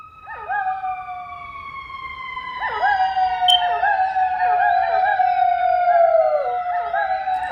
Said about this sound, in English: these coyote pups were caught howling along to police sirens